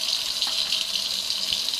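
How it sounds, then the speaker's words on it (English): Cold tap water runs steadily over hands at a kitchen sink before cooking, a continuous close hiss of flowing water with no talk. "now I will start to wash my hands because that's important."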